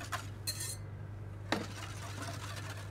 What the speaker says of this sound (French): Je verse le tout dans mes œufs, tout en mélangeant.